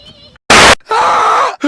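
A person screams loudly at close range in two long, strained bursts separated by a short harsh noise burst, with a brief vocal sound before and after.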